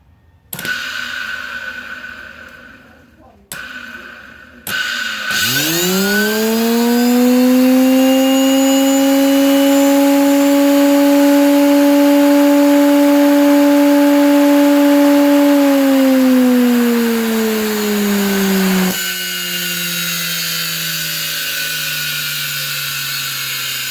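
Washing machine motor spinning up with carbon brushes sparking, a loud steady whine that rises in pitch, holds for about ten seconds, then winds down, preceded by a few short bursts.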